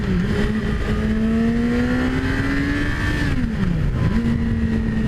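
A 2017 Yamaha R6 sport motorcycle revs to around 8000 rpm, its engine note climbing steadily in a loud, continuous whine before dipping briefly and rising again, close and without voices.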